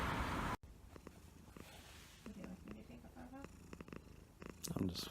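A cat purring softly up close, a low rhythmic rumble with faint rustles and small clicks, after a brief burst of louder noise at the start.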